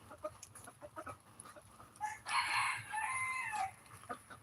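A small hen crows once at close range, a single bright call lasting just over a second, rising out of quiet farmyard background noise.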